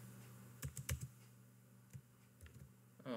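A handful of soft, scattered keystrokes tap on a computer keyboard, close and faint, in short irregular clusters before a brief voice-like sound at the end.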